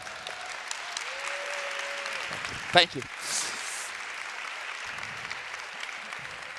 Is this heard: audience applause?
yes